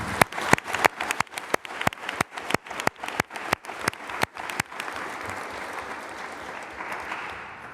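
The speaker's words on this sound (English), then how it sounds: "Let's give us a round of applause." An audience applauds at an Ottawa Board of Health meeting, starting with sharp distinct claps that quickly build into steady, moderately loud applause from a room of people, without talk.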